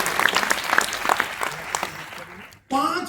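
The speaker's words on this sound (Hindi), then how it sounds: "मैं चाहूंगा एक बार जोरदार तालियां सिद्धार्थ और चंचल के लिए" A seminar crowd gives a burst of strong applause for Siddharth and Chanchal, dense clapping for over two seconds before a voice cuts in over a brief lull.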